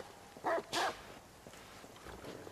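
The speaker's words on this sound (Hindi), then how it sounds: "अबे यार एक कुत्ता यहाँ पर आ रहा है." A dog barks twice in quick succession in the video game Watch Dogs 2, the short, fairly loud barks standing alone before a quieter stretch of faint game ambience.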